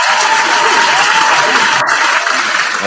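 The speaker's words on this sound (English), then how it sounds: "So round of applause for you, man, for being vulnerable with us." An audience at a music mixshow claps steadily and loudly throughout, a dense burst of applause with no voices standing out.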